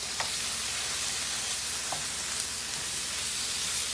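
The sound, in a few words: hamburger meat browning in a pan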